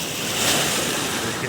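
Ocean surf rushes up the foggy beach at Rosarito, Mexico, a loud, close, continuous wash of water mixed with wind buffeting the microphone.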